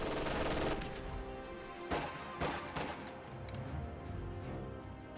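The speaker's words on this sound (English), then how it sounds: "LMG Grenadiers fire on the conscripts right there." LMG fire in a video game battle: a loud rattling burst at the start, then sharp separate cracks and shorter volleys over a layer of distant battle noise.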